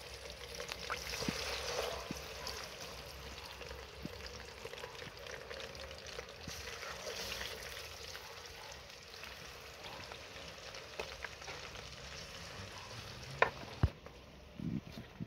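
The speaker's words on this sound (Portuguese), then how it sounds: "já terminei de fritar meu peixe aí" Catfish pieces frying in oil in a pan over a small improvised burner made from a guava-paste tin, giving a steady close sizzle and crackle throughout with a couple of sharp clicks near the end and no talking.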